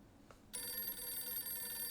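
A telephone in the horror video game Silent Hill f suddenly starts ringing with a steady, bright electronic bell tone that holds on, fairly quiet, after a brief faint knock, with no talking.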